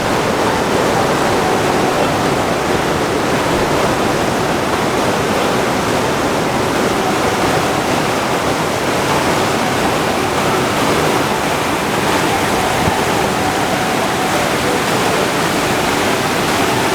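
A fast Himalayan mountain stream near Sonamarg, India, flows continuously, a loud, dense broadband roar close by, with no voices.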